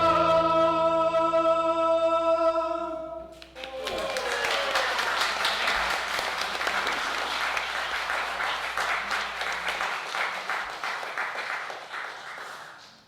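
Audience applause at a talk, breaking out after a sustained tonal musical note ends, then a dense, steady wash of many hands clapping that carries on for several seconds before tapering off.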